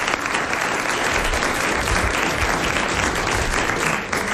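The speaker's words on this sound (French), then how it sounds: "On peut l'applaudir pour ça." Steady, full applause from a 1990 French TV studio audience, dense and continuous with no talking over it.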